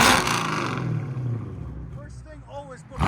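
A 2018 Chevy Camaro SS with a 6.2L V8, long tube headers and straight pipes, idling with a deep, rough low rumble that fades under nearby talk.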